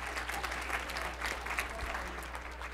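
A teen audience applauds after a card trick, dense steady clapping from a crowd filling the room at moderate distance, with a low hum underneath throughout.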